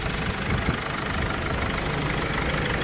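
A 2005 Mercedes Sprinter 313 diesel idles steadily under an open bonnet, a dense, even low rumble with a slight knocking texture, close and continuous with no voices.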